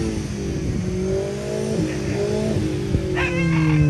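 A Mini's exhaust revving at a Mini car show, a loud rasping engine rising and falling through several blips close by, with no talk.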